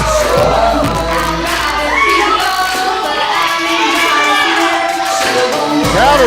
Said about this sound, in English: Crowd erupted for that one.